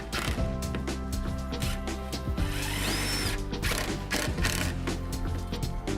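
Power drill driving 4-inch screws into a wooden window buckout set in insulated concrete forms, a loud whirring motor rising and falling in pitch, close up and continuous, with a musical bed underneath.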